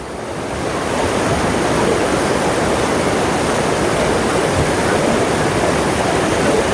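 Steady, heavy rush of water pouring over a lake's overflow, roaring continuously, broad and unbroken like a spillway, close and loud throughout.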